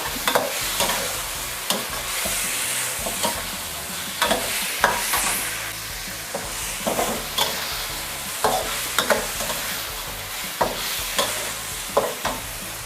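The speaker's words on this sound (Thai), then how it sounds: "น้ำปลา1 ช้อน คนส่วนผสมให้เข้ากันเลยค่ะ" Chicken livers being stirred in a pan for a Thai basil stir-fry with fish sauce, a steady sizzle broken by repeated scraping strokes of the spatula at an uneven rhythm, close and clear with no talking.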